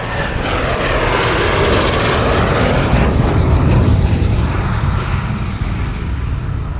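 A Hawker Hunter, a British jet originally built as a single-seat fighter, roars past at an airshow, a loud sustained engine rumble and whoosh that stays steady and close throughout with no voices.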